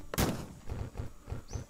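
A weapon in Starbound fires exploding bones: one sharp loud blast followed by a quick rhythmic series of four or five thudding pops, close and clipped.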